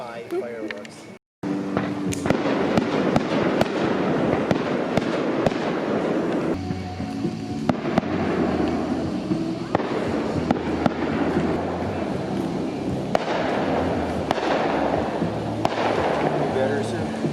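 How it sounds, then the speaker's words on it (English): Fourth of July fireworks burst and crackle continuously, with repeated booms and popping over a busy outdoor crowd, people talking and music nearby throughout. "Fireworks."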